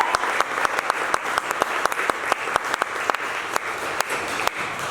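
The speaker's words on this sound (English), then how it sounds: "I think we should give them one more round of applause for all that they do" An audience at a postpartum and newborn-care talk applauds steadily, with dense, continuous clapping and sharp individual claps standing out throughout.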